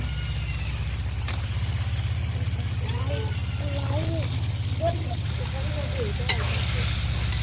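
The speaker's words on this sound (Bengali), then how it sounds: "এখন মশলার সঙ্গে একটু নাড়াচাড়া করে ভালো করে একটু এপিট ওপিট করে দিই" Chicken pieces sizzle and are stirred with spices in a pan over an outdoor clay stove, a steady frying hiss under a low rumble, with scraping stir strokes and a voice talking in the background.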